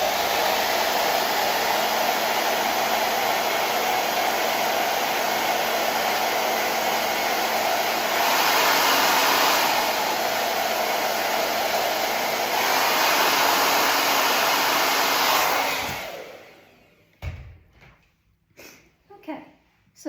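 A hair dryer blows steadily on a freshly painted layer, a loud constant roar for about fifteen seconds that briefly swells midway, then cuts off, leaving a few small knocks and handling sounds.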